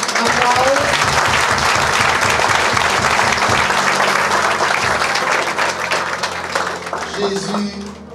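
Church congregation applauding during a Sunday service, sustained loud clapping throughout that thins near the end, with voices under it.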